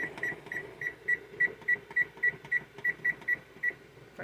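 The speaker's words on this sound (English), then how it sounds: "So now we're going to set our timer" A kitchen timer is set for boiling eggs, giving about fourteen short, evenly spaced electronic beeps at a quick steady rhythm, close and fairly clear over a faint kitchen background.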